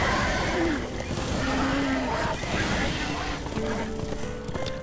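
A horse galloping in the video game Darksiders II, rhythmic hoofbeat clip-clops with game effects underneath, while someone talks over it.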